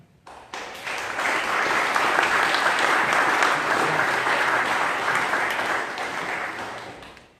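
An audience applauds steadily through a candidate introduction, sustained clapping that swells quickly, holds at full strength and then tapers off near the end.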